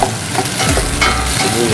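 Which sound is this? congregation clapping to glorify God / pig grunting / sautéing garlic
sautéing garlic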